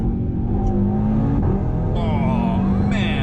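A 612 hp MTM-tuned Audi TT RS accelerates hard with a loud, steady engine roar and whining drivetrain, heard from inside the car with quick gear-change blips.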